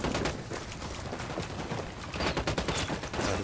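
Dense, rapid gunfire from a Ghost Recon Wildlands firefight, sustained automatic bursts cracking continuously at close range with no pauses.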